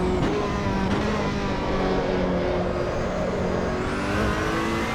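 A race car in the sim game Assetto Corsa EVO drives on cold tyres, its turbocharged engine holding a loud, steady drone with a thin turbo whistle rising over it. No one speaks.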